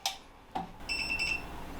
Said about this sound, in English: there's an alarm that sounds because it's expecting to have the enclosure on here that has a safety switch